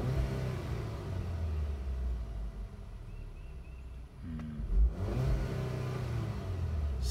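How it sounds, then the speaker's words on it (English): A 2013 Volkswagen Eos Komfort's 2-liter turbocharged four-cylinder idles and then revs up with no load, a steady engine drone that swells into a louder rise around the middle before settling back to idle. "So let's listen to this little Volkswagen four-cylinder."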